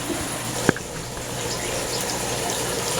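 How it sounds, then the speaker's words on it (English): Fresh water from a drip line trickles steadily into a measuring cup while tropical fish are prepared for shipping, a faint continuous flow with one small clink partway through. "we're taking our fresh water via the drip line right here, and I'm just filling up my measuring cup"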